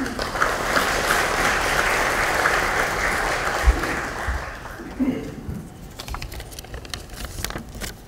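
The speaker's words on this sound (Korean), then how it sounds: "큰 박수로 만나시기 바랍니다." An audience at a Democratic Party lawmakers' workshop in Korea gives a candidate steady applause, a dense crowd clatter that fades after about five seconds into scattered taps and rustling.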